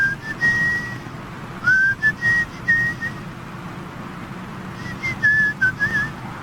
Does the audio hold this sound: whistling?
yes